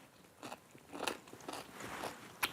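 Crisp, crunchy bites into a dill and chili pickle, close up: a few sharp cracking crunches followed by wet chewing, with no talking.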